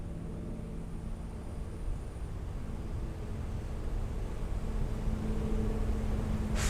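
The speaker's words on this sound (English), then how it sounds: "So it takes a while for the seat to go all the way up because it's 14 inches." A Permobil F5 power wheelchair raises its 14-inch seat lift, giving a steady low motor hum with faint tonal whine that holds evenly for several seconds, close by with no talking.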